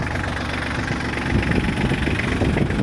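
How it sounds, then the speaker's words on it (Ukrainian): A tractor engine runs without load, a steady close rumbling drone with even low chugging throughout, loud and unbroken with no voices. "Тракторець йде без навантаження."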